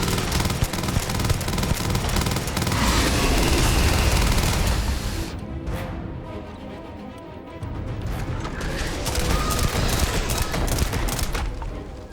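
Close, loud bursts of rapid gunfire and crashing impacts from combat in the space game Starfield, heavy shooting that eases briefly midway and then picks up again.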